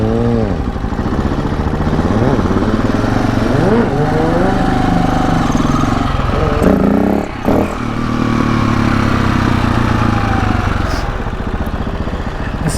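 A rebuilt stunt motorcycle's engine idling loud and close, its pitch rising in steps as the idle is turned up, with a brief dip and mechanical clatter partway through.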